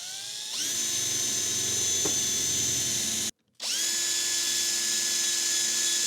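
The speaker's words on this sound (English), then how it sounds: "And now we can pre-drill the holes." A power drill whines at a steady high pitch, cuts out briefly, then spins up again and keeps running.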